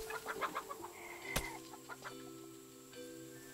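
Chickens in the video game Garden Paws give a quick burst of soft clucks, then fall quiet as a sharp click and faint game tones follow.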